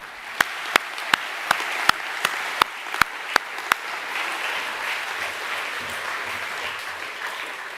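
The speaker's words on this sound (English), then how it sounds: "Can we give all award winners a round of applause," A school assembly audience applauds award winners with sustained clapping, with several sharp, loud claps standing out near the start before the applause settles into a steady wash.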